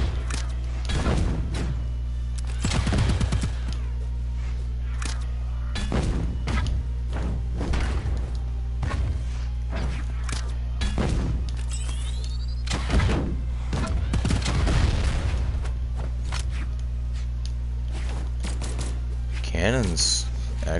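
Cannon weapon attacks in the Brawlhalla fighting game on PS4 ranked play: repeated loud thumping booms at irregular intervals over a steady game music bed, with a player talking at times between the hits.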